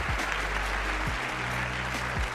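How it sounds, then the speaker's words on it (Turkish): A video game stadium crowd in EA FC 26 applauds in a steady, dense wash of clapping, with low sustained musical tones humming underneath. "Carlo Holse'yi alkışlıyorlar"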